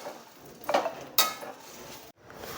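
Curry leaves roasting with chana dal in a pan, a soft crackle broken by two sharp stirring scrapes, close by, with no one speaking.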